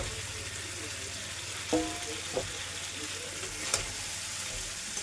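Fried eggs go into oil and cooked spice paste for an egg korma with coconut milk and are stirred in. A steady close sizzle runs throughout, broken by a few sharp clinks and scrapes from the stirring.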